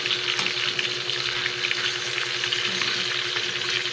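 Pork chops fry on a grill pan with a steady, close sizzle that holds at an even level throughout, with no one speaking.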